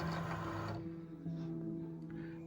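A Cricut cutting machine pulls in its cutting mat with a steady mechanical whir and faint motor hum, close and fairly quiet, with no voices.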